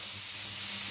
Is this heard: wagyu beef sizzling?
yes